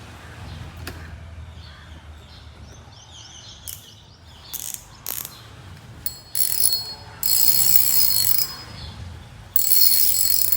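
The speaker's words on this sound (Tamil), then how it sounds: "இப்போ தான் ட்ராக் சவுண்டு கேட்கு." A newly repaired fishing reel's drag gives off close, high-pitched clicking and ratcheting in several bursts, with the longer runs in the second half.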